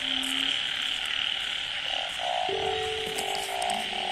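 Toads croak in steady pulsing bursts outdoors after heavy rain near a chicken coop, the calls repeating in a regular rhythm over a constant insect-like hiss, no voices.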